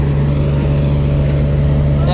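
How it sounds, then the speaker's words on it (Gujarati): A tractor engine revs hard under load while pulling a stuck JCB free, a loud, steady low drone held throughout, with voices talking over it. "હાલ લીધો ટ્રેક્ટરનો રેસ"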